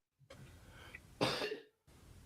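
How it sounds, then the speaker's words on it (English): A person coughs twice during an online sports talk show: a short soft cough, then a louder, harsher burst with a throat-clearing quality, close to the microphone, with nobody talking. "I thought I was muting myself because I was coughing"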